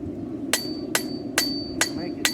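A blacksmith hammers a horseshoe to chamfer the corner of a hoof pick, five sharp ringing metallic strikes at an even pace about half a second apart, close and clear over low background noise.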